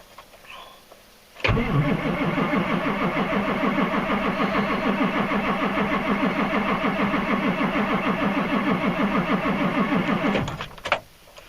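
A diesel truck engine cranks steadily on a cold start for about nine seconds, a fast rhythmic churning starter sound that never catches, then stops abruptly.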